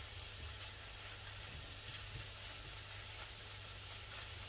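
Smoked lardons fry in a pan, giving a faint, steady sizzle and hiss that runs without a break and with no talking.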